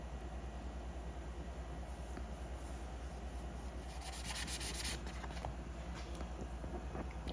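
Sandpaper rubs back and forth over the fillet on a model engine casting in a steady, close scratching rhythm with no talking, a brief brighter stretch of strokes partway through.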